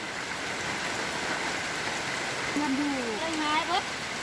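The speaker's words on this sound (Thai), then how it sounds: "ฟังกาเสียงฝนตกจ้าจ้า" Steady rain falls over a grassy rural field, a broad even hiss throughout, with a voice briefly audible near the end.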